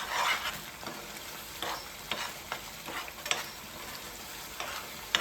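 Masala for green chicken curry is stir-fried in a kadai, with repeated rhythmic scrapes of a spatula over a soft, continuous sizzle, close and alone without talk.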